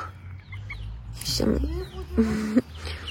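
Farm hens cluck excitedly over a piece of egg, giving a few close, rising squawks and bursts of clucking among rustling, with a person talking nearby.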